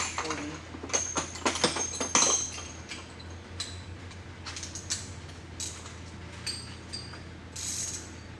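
A ratchet works on a front hub assembly, giving bursts of quick mechanical clicks and metallic clinks in the first few seconds, then sparser ticks over a steady low hum.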